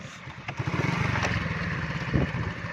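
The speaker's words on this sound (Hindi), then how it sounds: "मैं बाइक पे बैठ रहा हूँ।" A motorbike engine runs steadily up close, a low rumbling idle with a slight rev partway through, heard alone with no talk.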